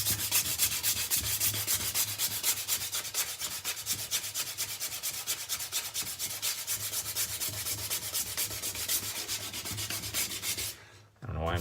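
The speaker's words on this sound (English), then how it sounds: "Just using a sanding block here." A sanding block scrubs back and forth by hand during bathroom water damage repair, a fast steady rhythm of rasping strokes close up that stops near the end, no speech.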